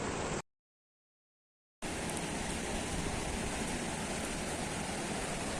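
Steady broadband rush of water flowing over rocks in a stream at Lakhaniya Dari near Mirzapur, continuous and fairly close, with a brief dropout of silence near the start.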